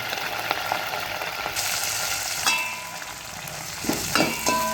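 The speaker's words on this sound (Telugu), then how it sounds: "ఇప్పుడు ఉల్లిపాయలు పచ్చిమిరపకాయలు కరివేపాకు వేసేసాను" Onions, green chillies and curry leaves crackle and sizzle loudly in hot tempering oil with mustard seeds and cumin for Andhra sambar, a steady close frying hiss punctuated by sharp pops, with no voices.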